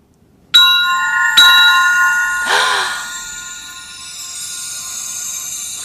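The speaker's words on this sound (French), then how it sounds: "Je vois que vous avez retrouvé votre cloche." A hand bell rings twice with bright struck tones that decay slowly, followed by a softer jangling ring as the notes linger and fade.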